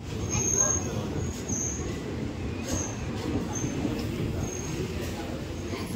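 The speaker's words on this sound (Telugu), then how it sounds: "ఫైనల్లీ ట్రైన్ అయితే వచ్చేసింది" A steady low rumble of a train rolling into Cherlapally station, with continuous station noise and a murmur of voices throughout.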